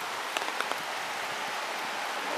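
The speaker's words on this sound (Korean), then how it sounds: "비가 와서 그런가" Rain falls steadily on surfaces during a town walk through Geoman on a wet day, a dense hiss with a few closer drips and taps standing out near the start.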